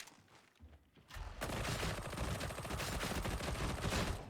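Shredder Auto Pistol firing in Warhammer 40K: Darktide, a quiet start giving way to a sustained, fast stream of rapid shots that holds steady to the end, heard alone without talk.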